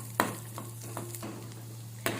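Cashew nuts fry in a pan, giving a steady sizzle under a low hum, broken by a few sharp stirring scrapes and clinks.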